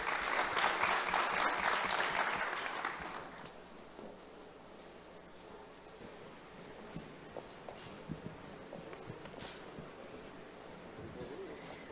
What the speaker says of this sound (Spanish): Un fuerte aplauso e iniciamos.